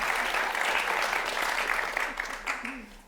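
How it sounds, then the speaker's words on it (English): A talk audience applauding themselves at an event on midlife and menopause: sustained, full crowd clapping with scattered cheers, tapering slightly toward the end as a voice comes in. "Give ourselves a round of applause"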